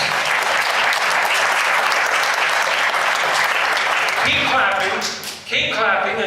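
Applause from an audience at a talk in the Murdock Theatre, with steady sustained clapping that thins out near the end as a speaker begins talking over it.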